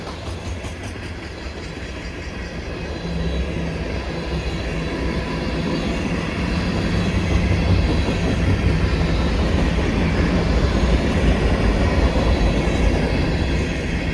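A long freight train of chemical and petroleum tank cars rolls steadily past nearby, a loud continuous rumble of wheels and rail noise that builds slightly and holds without pause.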